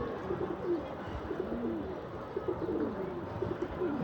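Pigeons on a rooftop coo softly and repeatedly, low throaty calls rising and falling over a faint background hum.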